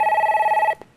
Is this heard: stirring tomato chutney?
no